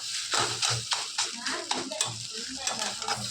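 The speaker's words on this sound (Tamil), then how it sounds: "இப்போ வந்து நல்லா கலக்கிக்கலாம் முட்டையை." Egg being stirred and scraped into street-food fried rice in a hot pan, with rapid rhythmic spatula strikes and clinks over a soft sizzle, close and busy.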